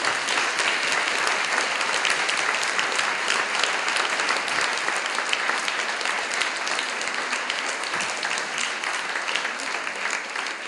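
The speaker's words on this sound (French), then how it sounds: "Je vous demande d'applaudir Antoine Chéreau." Sustained audience applause at a conference fills the room in honour of the event's illustrator, a dense, steady wash of many hands clapping that stays loud and even throughout without letting up.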